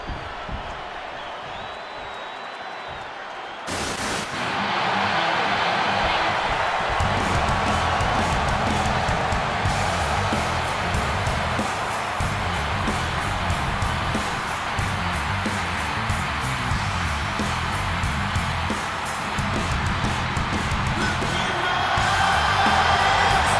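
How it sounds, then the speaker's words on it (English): A capacity arena crowd in the WWE 2K26 wrestling game roars and cheers loudly and continuously after a quiet opening, the sustained noise of a packed audience with occasional whoops. "And this capacity crowd just exploded."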